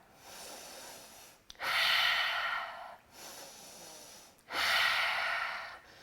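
Two long, deep breaths during a Pilates class, each a soft inhale followed by a stronger, airy exhale, close to the microphone with short quiet pauses between them.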